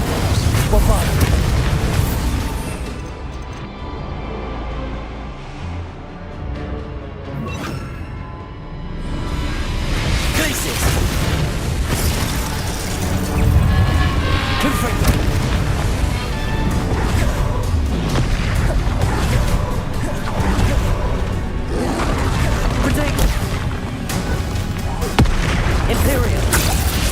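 Bombarda explosion spells cast in Hogwarts Legacy gameplay, heavy booming blasts with crashing debris, loud and repeated, swelling into a sustained rumble after a brief lull.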